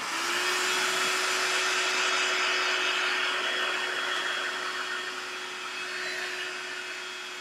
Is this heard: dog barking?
no